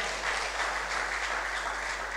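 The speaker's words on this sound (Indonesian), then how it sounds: "Tepuk tangan dari buat Tuhan" A church congregation applauding during a Sunday sermon, a brief, dense, even wash of clapping over a steady low hum.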